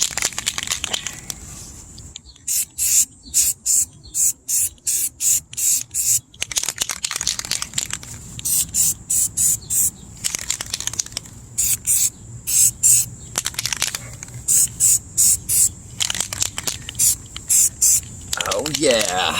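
Rust reformer sprayed from an aerosol can onto a 1972 Arctic Cat Lynx snowmobile, heard as many short, close hissing bursts in quick runs separated by brief pauses.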